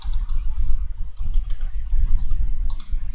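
Rapid typing on a computer keyboard while working in a Python code editor: a steady run of light, close clicks over a low background rumble, with no voices.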